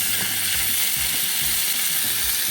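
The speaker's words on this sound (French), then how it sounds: "À côté, on a les saucisses qui grillent." Sausages grill in a pan at a Korean market rotisserie, a loud, steady, hissing sizzle with faint clicks and scrapes underneath throughout.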